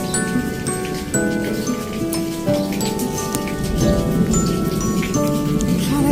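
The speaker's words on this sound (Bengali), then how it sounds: "দেখুন 1 ফোঁটা করে বৃষ্টি পড়ছে" Light rain patters in sparse, steady drops on nearby surfaces, a soft continuous spatter under a layer of steady tonal background sound.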